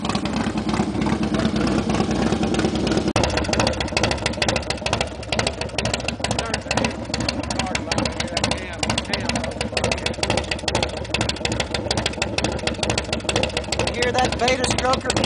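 A 2006 Harley-Davidson FXSTB Night Train engine with a stroker cam idles low with a lumpy, uneven chop, running steadily up close throughout.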